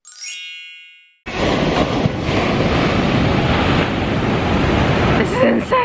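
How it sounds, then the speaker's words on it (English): Surf at Sycamore Cove Beach in Malibu rolls in as a steady, loud wash of breaking waves with heavy wind buffeting the microphone, after a brief bright tone at the start. "I'm currently at Sycamore Cove Beach in Malibu"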